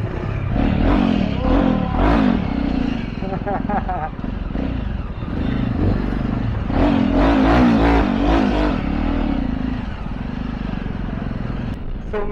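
Busy street traffic in Siliguri, India, with motorcycles and cars revving and passing close by in a steady, continuous roar, engine rises and falls throughout, and a voice talking over it.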